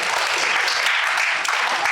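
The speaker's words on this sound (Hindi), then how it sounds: "अपने लिए एक बार ताली बजाइए" Dense, steady applause from a crowd of camp participants at a life skills camp inauguration in Jamshedpur, loud and continuous throughout with no pauses.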